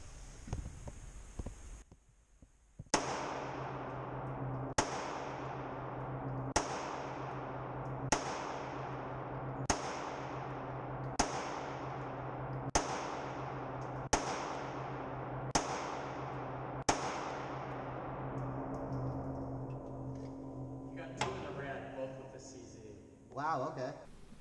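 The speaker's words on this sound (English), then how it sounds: "now we are going to do 10 shots with the CZ" Ten pistol shots from a CZ Custom Compact SDP fired at a 25-yard target on a range, loud sharp reports spaced at a steady rhythm of roughly two seconds, each with a ringing decay, followed by faint handling noise.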